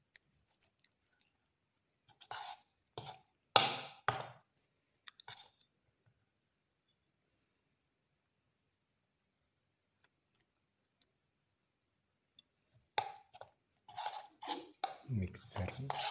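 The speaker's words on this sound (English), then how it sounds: "Keep on mixing." A spoon working batter of bitter gourd, fenugreek and chickpea flour for fritters in a bowl, with clusters of clinking, scraping strokes early and again near the end, separated by a long quiet stretch.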